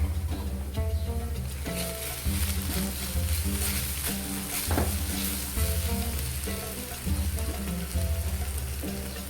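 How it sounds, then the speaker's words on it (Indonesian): Garlic, ginger and chili sizzle and crackle steadily in a hot pan, with periodic scraping from stirring, moderately loud and continuous, no voices. "Sekarang masukkan jahe bawang putih dan cabai yang tadi saya haluskan"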